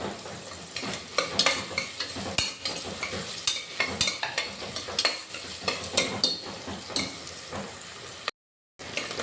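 Onions sizzling and frying in a pan with salt for an egg biryani, with repeated stirring and scraping strokes at an uneven rhythm and a brief dropout near the end, close and moderately loud.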